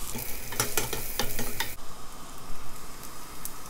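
Eggplant sautéing in olive oil, a close, steady sizzle with several quick clattering stirs early on before it settles into a continuous frying hiss.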